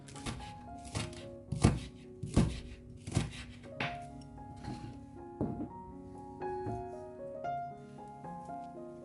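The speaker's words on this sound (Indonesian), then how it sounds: "Daun bawang kita pakai 1 batang, kita potong-potong lalu sisihkan." A knife chops one spring onion on a cutting board, giving a string of distinct, close thunks, quick at first and then more spaced out, with a faint background hum.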